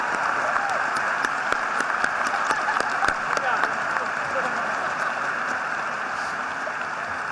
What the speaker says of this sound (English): I ask that you all join me again in another round of applause for that exceptional speech by Cathy.